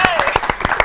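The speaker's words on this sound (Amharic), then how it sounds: "አጨብጭቡላት" A crowd of children at a televised kids' show anniversary event claps in a short, quick burst of distinct close hand claps, with a voice overlapping.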